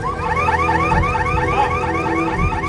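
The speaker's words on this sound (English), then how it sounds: "From the ruins comes a shrill symphony of car alarms." Car alarms go off among the ruins of a collapsed apartment block, several shrill cycling electronic whoops overlapping into a loud, continuous chorus with no voices.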